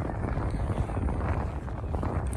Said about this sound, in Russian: очень сильный ветер, может быть, мне плохо слышно